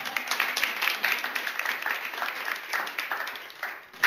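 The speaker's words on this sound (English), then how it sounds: "You can clap, it's all right." Applause from a lecture audience at a talk on food justice, a brief scattered patter of many hands clapping at moderate distance, with no speech over it.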